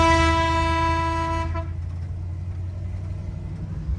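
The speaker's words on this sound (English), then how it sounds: "That air horn works awesome" An air horn newly installed on a truck gives one loud, sustained blast that cuts off after about a second and a half, leaving a low background hum.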